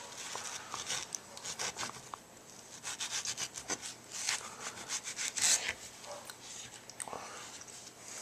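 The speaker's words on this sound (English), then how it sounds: "So we're going to try and slice around it." A knife slices a mango around its large, flat pit, producing faint, close scraping and rubbing strokes in a quick, irregular rhythm with small wet crunches, and no talking.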